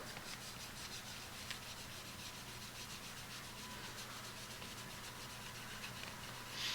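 A cloth rag gently buffs the roof of a scale model Dodge Dart with light pressure, giving a steady, soft, continuous rubbing hiss that stays even throughout and close by, with no voices.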